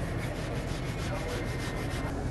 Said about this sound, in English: So we want to clean that oxide off before we actually start beginning the weld.